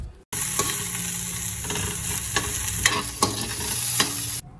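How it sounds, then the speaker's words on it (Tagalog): Ginger, garlic and onion sauté in a pan for a coconut-milk tuna stew, a dense continuous sizzle up close punctuated by several scraping strokes of a spatula, with no talking. "Isusunod ko naman itong bawang at sibuyas."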